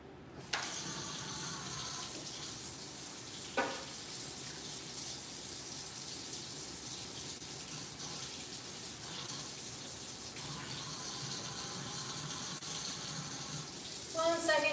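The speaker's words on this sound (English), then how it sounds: "Let me rinse these off." Tap water runs into a kitchen sink as something is rinsed, a continuous close splashing hiss broken by a few knocks, with faint background voices.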